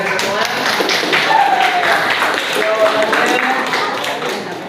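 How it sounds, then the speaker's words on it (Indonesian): Classroom audience clapping together, a dense run of quick overlapping claps at fairly close range, holding steady before tapering at the end. "terima kasih tepuk tangan untuk kalian semua"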